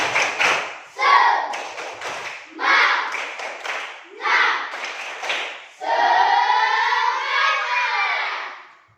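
Rhythmic class clapping in a classroom, groups of students clapping in short bursts that run together with loud chanting voices, ending in a longer sustained group cheer.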